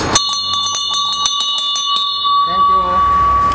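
A bell rings repeatedly at a misal restaurant in Mumbai, a series of bright metallic strikes with a sustained ringing tone, followed by voices talking near the end.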